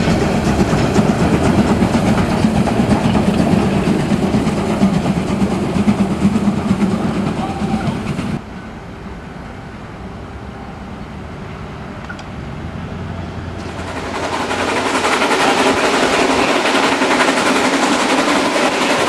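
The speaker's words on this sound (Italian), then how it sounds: "Il treno è in partenza per il Brocken, la mitica montagna tedesca" A train on the Brocken railway pulls out toward the German mountain, a loud continuous rumble with clattering wheels that thins out for several seconds and then swells back to full roar.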